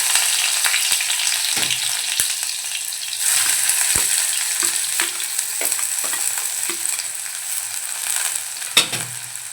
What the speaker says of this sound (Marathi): फोडणीसाठी पहा एक चमचा तेल आपण गरम करून घेतलं आहे त्यामध्ये बारीक चिरेला कांदा घालून घेऊया